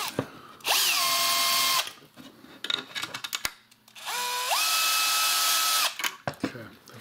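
A power drill driving screws into 3D-printed PLA parts, two close whining bursts that step up and down in pitch as the screws seat, with clicks and handling noise between them.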